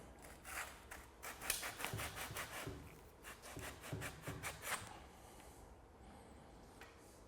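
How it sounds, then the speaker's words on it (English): A bicycle seat post and saddle are worked free of the frame, with rapid rhythmic rubbing and scraping strokes up close, then a quieter stretch of faint handling noise. "We're going to remove the seat post and saddle from the frame."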